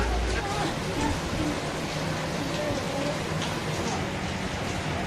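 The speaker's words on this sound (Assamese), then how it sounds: "বৰষুণ দি আছে চাওক" Steady rain falls in a dense, even hiss that fills the whole stretch, with faint voices murmuring now and then underneath.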